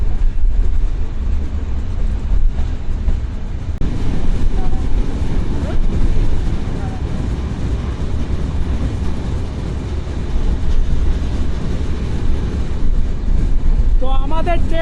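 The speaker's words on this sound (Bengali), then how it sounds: "ট্রেনটা এখন ক্যান্ডারিয়া রেল স্টেশন ক্রস করতেছে যদিও এই স্টেশনের দাঁড়ায় না ট্রেনটা" Passenger train on the Padma Bridge route rolling past Kandaria railway station without stopping, a continuous low rumble and clatter heard from inside with faint voices under it.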